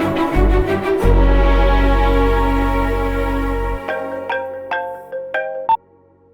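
A phone rings for an incoming call with a loud melodic ringtone, first over a deep sustained tone, then as a few clear repeated chimes that stop abruptly.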